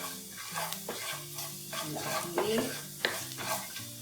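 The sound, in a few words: garlic and chili flakes sautéing in a pan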